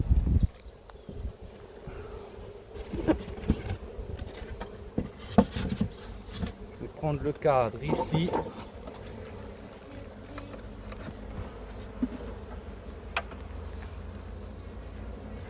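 Honey bees buzz steadily around an open hive during a frame inspection, a soft continuous hum with occasional clicks and knocks of handling, and someone speaks briefly in French.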